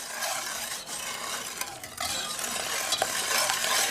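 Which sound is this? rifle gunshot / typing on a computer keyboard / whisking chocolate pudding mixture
whisking chocolate pudding mixture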